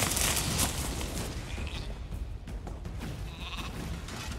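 Sheep bleating in the video game The Elder Scrolls Online, High Isle region: several bleats, one around the middle and another near the end, heard over a busy, noisy game soundscape with no talk.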